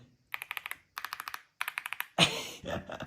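Bursts of rapid clacking keystrokes on a new computer keyboard, three quick runs of sharp clicks separated by short pauses, close and crisp, followed by a rougher clattering rustle at the end.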